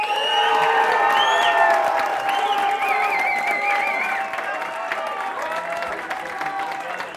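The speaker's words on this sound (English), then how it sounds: "give him a round of applause" Enthusiastic audience applause at a speaking event, loud and sustained with cheers and whoops mixed in, easing slightly after a few seconds while voices carry over the clapping.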